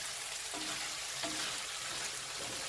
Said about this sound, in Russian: Чуть-чуть его обжарим.